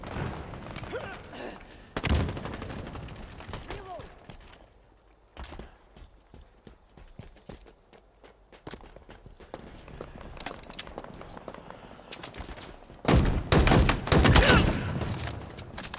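Rapid bursts of automatic gunfire crackle through a Halo Infinite firefight, scattered clusters of shots with heavy volleys near the start and a loud sustained barrage toward the end.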